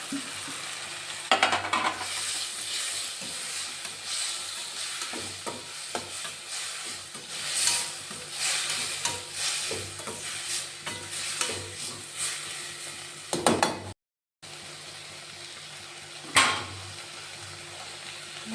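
Onions and tomatoes fry in a pan with a steady sizzle, stirred now and then with scraping clinks, a short silent gap near the end, no talking.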